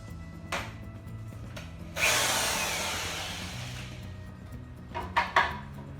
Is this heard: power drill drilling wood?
yes